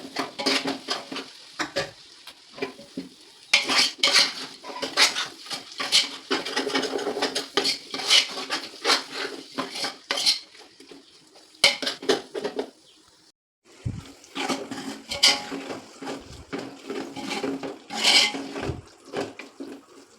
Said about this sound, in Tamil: இப்போ வந்து நான் தக்காளி ஆட் பண்ணுறேன்.